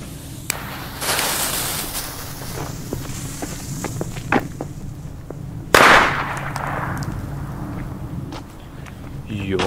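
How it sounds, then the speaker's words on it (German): A China Böller B firecracker from Leslie goes off with one sharp, loud bang near the middle, amid footsteps and rustling outdoors, with people talking before and after the blast. "wir machen hier direkt mal einen kleinen Soundcheck. Und zwar hier mit dem China Böller B von Leslie."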